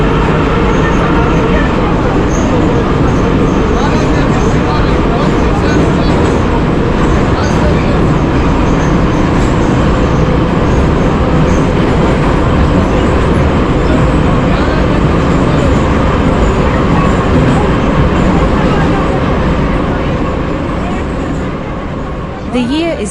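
Tbilisi metro train running underground in a deep tunnel, a loud, steady rumbling roar with rattling and rushing noise throughout, easing slightly near the end.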